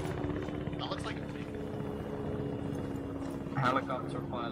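Helicopter in ARMA 3 giving a steady, loud rotor drone under continuous radio-style talk from several voices.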